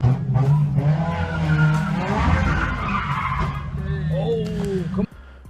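A Honda S2000 doing donuts, its tires skidding and squealing in a long continuous screech over a revving engine, loud and close, ending abruptly.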